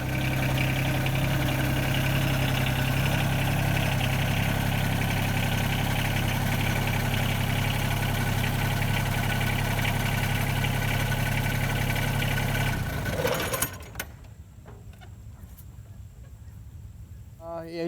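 A John Deere 2320 compact tractor engine idles with a steady low droning rumble and hum, loud and constant, then shuts off near the end, leaving faint quiet clicks.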